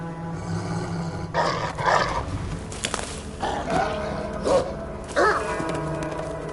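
Dog in Assassin's Creed Valhalla: several rough, growling barks in separate bursts over a steady background hum, fairly close and loud.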